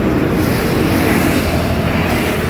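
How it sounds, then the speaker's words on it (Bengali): A train passes near the Kolaghat bridge as a loud, steady, close rumble with a broad roar that never lets up, and no one speaks. "এখানে ট্রেন যাচ্ছে"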